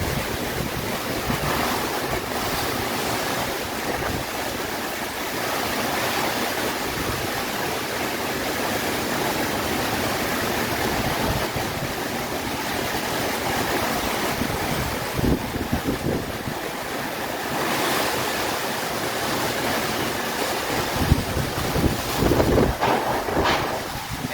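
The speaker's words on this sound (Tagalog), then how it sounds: "ang napakalakas nga po na hangin na may kasamang malakas din na buhos ng ulan" Typhoon-force wind roars steadily with a dense rushing hiss of heavy rain, loud and unbroken, with occasional gusts swelling.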